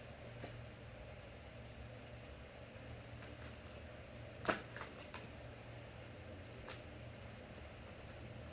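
Tarot cards being shuffled to draw one: faint, soft riffling over a steady low hum, with a single sharper snap of the cards partway through.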